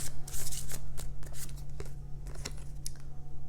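Deck of life purpose oracle cards being shuffled by hand, a rapid run of crisp papery riffles and taps, close and quiet with an irregular rhythm.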